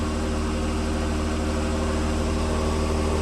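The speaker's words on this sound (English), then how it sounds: "I'll close the door so that we can dull the sound of the V6 a little bit" A cold Jaguar F-Type V6 S AWD engine runs at a steady, fast idle, a continuous low droning hum close by with no voices.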